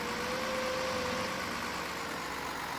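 Tractor engine idling in the Farming Simulator 15 video game, a steady, dense mechanical drone with a faint tonal whine, continuous and alone for a few seconds.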